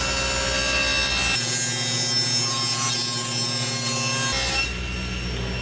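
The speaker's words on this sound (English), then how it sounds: "set your table saw at 45 degrees and cut your bevel" A table saw cuts a 45-degree bevel in a panel: a steady high motor whine, then about three seconds of louder, rough cutting noise through the wood, and the whine returns alone afterward.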